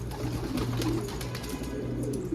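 A runaway pigeon cooing close by, with repeated low, soft coos in a steady rhythm over faint background noise.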